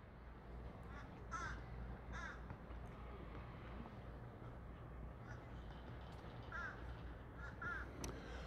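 Crows caw in short, separate bursts at outdoor gondola test grounds near a resort, several calls spread out over a steady low rumble of machinery, fairly distant.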